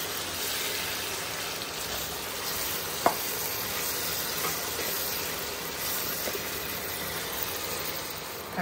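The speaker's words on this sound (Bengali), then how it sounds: "এখন ভালো করে সবজিটা কষিয়ে নেব" Vegetables stir-frying in a pan with turmeric, salt and cumin powder for vegetable khichuri, a steady close sizzle and hiss throughout with a single sharp clink of a utensil near the middle.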